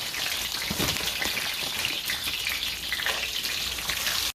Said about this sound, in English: To this, we're going to add some French fries. Got the fries going in.